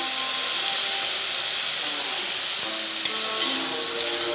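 Vegetables with turmeric, eggplant among them, sauté in a hot pan with a loud, steady sizzle, a few light scrapes of stirring near the end.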